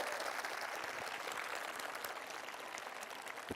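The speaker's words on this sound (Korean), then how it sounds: "저런 일은 진짜로 여러분 박수 한번 쳐주셔야 됩니다." A talk-concert audience in Seongnam gives a round of applause, dense and fairly even clapping at a moderate distance, tapering slightly toward the end.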